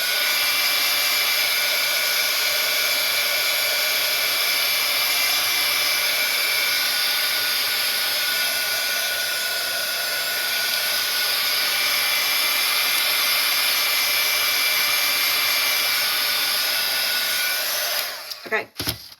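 Handheld hair dryer blowing over a freshly painted craft background, a loud, steady, close-range roar running unbroken for almost the whole stretch before switching off with a short clatter at the end.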